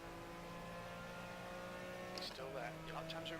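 An Aston Martin race car in the Project Cars racing game holds a steady engine drone, with shifting whines and a brief tire squeal toward the end, under continuous commentary.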